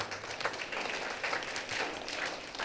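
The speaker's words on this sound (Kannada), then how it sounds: "ನಿಮ್ಮೆಲ್ಲರ ಜೋರಾದ ಚಪ್ಪಾಳೆ ಬರಲಿ." Audience at a Kannada theatre seminar on acting applauding a lecturer, a dense, steady wash of clapping from many hands throughout, fairly close and fairly loud.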